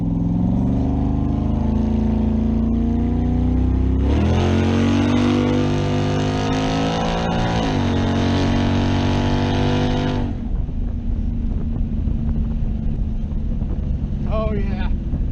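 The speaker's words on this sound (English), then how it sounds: "You can actually tell it's shifting gears now." Chevrolet Camaro with a new cam and converter accelerates hard under a rising engine roar, with clear drops and pitch jumps at each gear shift and wind buffeting the microphone, then eases off.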